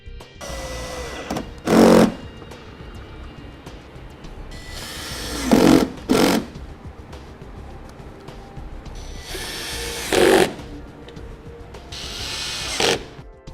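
A power tool drives fasteners back into the front fascia of a 2014 Chevrolet Equinox, heard as four or five short, loud whirring bursts spaced a few seconds apart over a low background hum.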